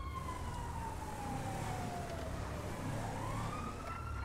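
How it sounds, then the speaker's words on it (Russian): A police car siren in a GTA role-play game wails in long, slowly sliding tones over a constant road-traffic rumble. It carries on through the whole stretch and is fairly loud, with no talk. "что там иногда слышатся какие-то сирены"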